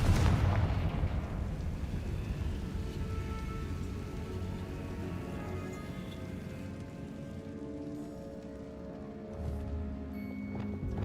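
A Confringo blasting curse exploding in a tomb in Hogwarts Legacy, one heavy booming blast at the start followed by a long, rumbling, crackling decay that fades over several seconds.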